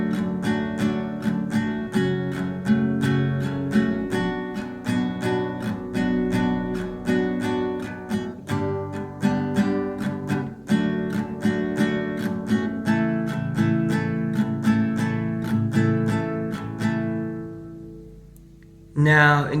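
Acoustic guitar strums the opening verse chords of a song in a steady, even strumming pattern, close and loud, ringing out alone before a brief pause near the end.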